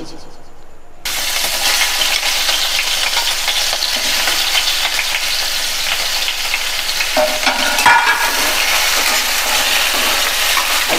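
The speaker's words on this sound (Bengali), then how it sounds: "এবার আমি আলুগুলো তুলে দিচ্ছি।" Potato pieces fry in hot mustard oil in a karahi, a loud steady sizzle that jumps up right after a short quiet start and stays dense and even, with a few brief stirring scrapes and no talk.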